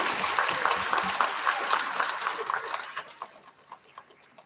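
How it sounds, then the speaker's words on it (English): A school recognition ceremony audience claps for award recipients, a brief burst of scattered applause with some voices that thins out into a few sparse, separate claps. "Let's give them one more round of applause"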